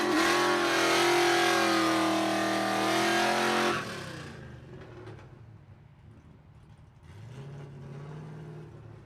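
A 2014 Ram 1500 pickup truck accelerating hard at a drag-strip test and tune, its engine roaring loud and close for about four seconds before dropping away to a distant hum that swells briefly again.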